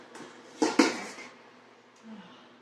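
Two sharp clattering knocks of ceramic bowls close by in a home kitchen, followed by a brief settling rattle and quiet room noise.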